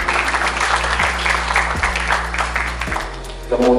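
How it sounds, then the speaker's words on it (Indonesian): Applause from the audience at a children's forum congress in Kediri, Indonesia, a dense, steady clapping that fills the whole stretch, with a short lull near the end before it swells again. "Mas Putra ya, tepuk tangan dulu."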